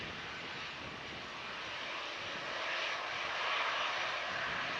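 EasyJet jet plane on the runway at Manchester Airport, a steady broad engine roar swelling slightly louder toward the end, heard from a distance with no talking.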